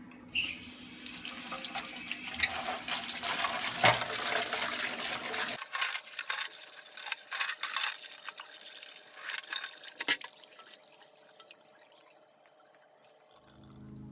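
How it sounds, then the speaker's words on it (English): Water runs from a tap as drill press parts from an Atlas 73 restoration are rinsed, a steady close splashing stream for about five seconds, then quieter trickles and drips with occasional clinks. "Just a quick rinse here."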